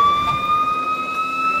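A real police car siren holds a steady, loud tone at close range for a short stretch, with no talking over it.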